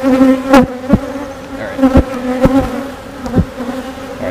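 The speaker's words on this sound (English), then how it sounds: "There's a lot more bees in here than there were last week" Honey bees hum loudly close by at a hive, a steady droning buzz broken by sharp bumps and knocks against the microphone.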